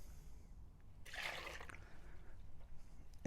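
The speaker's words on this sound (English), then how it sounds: "We're gonna pour the milk in here." Milk being poured into a bowl makes a short, soft liquid gush that rises and then fades, faint against a quiet kitchen background.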